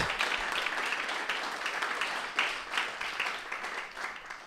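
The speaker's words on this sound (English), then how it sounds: "A little round of applause for that, if you wouldn't mind." Audience applause at an evening talk on climate and democracy, a steady wash of clapping from a crowd lasting several seconds, with a few louder bursts partway through.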